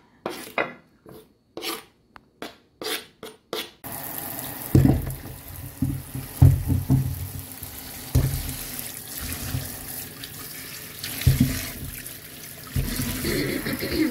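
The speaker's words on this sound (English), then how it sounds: "So I'm just going to wash my herb seasoning" Herb seasoning being rinsed under a running kitchen tap while preparing a Jamaican breakfast: a few short bursts of water at first, then a steady close splashing stream with uneven rises as the herbs are turned under the flow.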